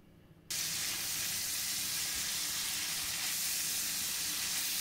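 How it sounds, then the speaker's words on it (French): Bacon lardons fry in a pan, their sizzle bursting in abruptly after a brief quiet moment and then holding as a loud, even hiss to the end. "On fait revenir nos lardons."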